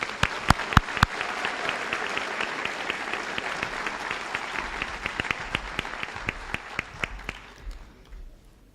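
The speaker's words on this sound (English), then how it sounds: "Let's give them a big round of applause" Applause for graduates at a high school graduation ceremony, a broad crowd clapping with sharp nearby individual claps standing out, slowly tapering over several seconds.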